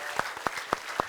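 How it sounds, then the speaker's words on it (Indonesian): Four sharp, evenly spaced hand claps from an audience on a comedy variety show, crisp and close with a short pause between each. "tepuk tangan untuk Bu Ati Tata Rajali."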